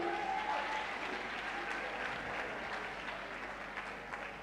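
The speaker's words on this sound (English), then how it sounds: "Can we clap for them as they come?" Audience applause at a campus church gathering, a steady wash of many hands clapping at moderate distance, continuous and fairly even throughout.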